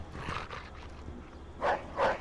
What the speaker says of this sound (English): And there's the dog again.